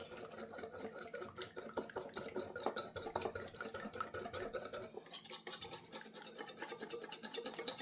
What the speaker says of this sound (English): we just need to give that a real good stir up now